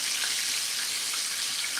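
Food fries in a hot pan with steady, bright crackling sizzle throughout, close and fairly loud, with no talking.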